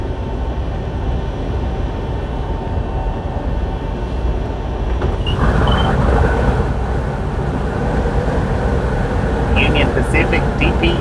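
A Union Pacific freight train with a distributed power locomotive rumbles steadily nearby, a continuous heavy rail drone with voices talking over it.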